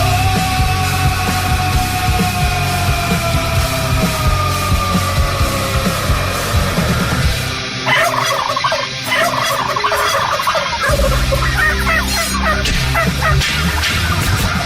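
Turkeys gobbling in a loud, dense chorus, the calls overlapping continuously with a brief dip in the middle before the racket resumes.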